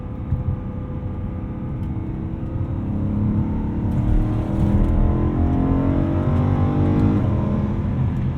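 A tuned 2010 BMW E92 M3 engine rumbles and climbs in revs on a test drive, heard from inside the car as a steady, deep drone that builds and swells toward the end.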